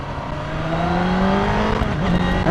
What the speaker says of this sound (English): And it just encourages you to rev it more and more and more.